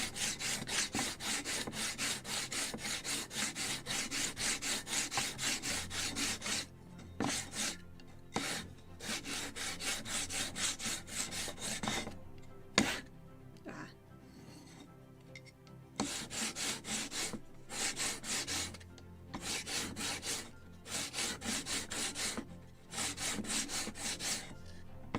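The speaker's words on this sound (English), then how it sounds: "And I'm constantly turning like this, turning my yard and sanding." Sandpaper works a small wooden yard for a Model Shipways 1776 gunboat Philadelphia kit, giving close, quiet, rhythmic rasping strokes in long runs broken by brief pauses while the piece is turned.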